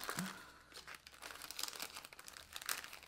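Packaging around gold-coloured bookmarks from a Christmas planner box is opened by hand, with faint, close crinkling and tearing of plastic in irregular bursts.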